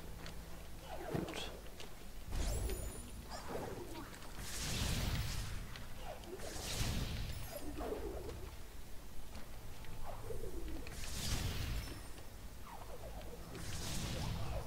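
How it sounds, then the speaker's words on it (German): A bird in the video game Ori and the Blind Forest calls repeatedly, short cooing and chirping bursts recurring every couple of seconds over a soft, steady game ambience. "Ah, dieser nervige Vogel."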